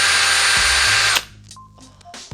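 A Makita XPH10 cordless drill whirs loudly at full speed for about a second, then cuts off, leaving brief quieter clicks and handling noises.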